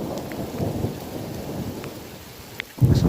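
Heavy torrential rain pours steadily during a severe thunderstorm in Woking town, with a low rumble of thunder throughout and a louder, closer burst of rain or thunder near the end.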